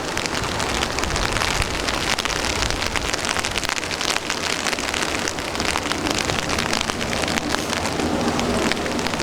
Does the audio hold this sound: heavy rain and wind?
yes